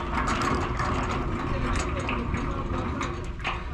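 Sections of a metal collapsing garage gate sliding back along a track, each one pushing the next, giving a continuous mechanical rattling and grinding that stays loud throughout.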